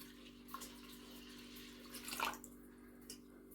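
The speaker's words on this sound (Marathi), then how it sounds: "आता आपण याच्यात पाणी डाळ बुडेल इथपर्यंत पाणी टाकून घ्यायचे" Water is poured into a bowl of washed urad dal until the lentils are covered for soaking. A faint, brief splash and trickle rises about two-thirds through an otherwise quiet, low stretch.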